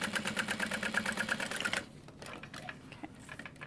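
A sewing machine runs close and loud in a fast, even rhythm, top stitching a slip pocket panel on a tote bag, then stops abruptly partway through, leaving soft handling noises.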